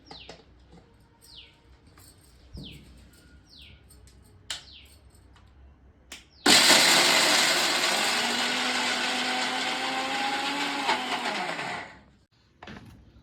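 A mixer grinder blending corn batter for crispy corn vadas starts abruptly and runs loud and steady for about six seconds before cutting off, after quieter clinks and faint chirps beforehand.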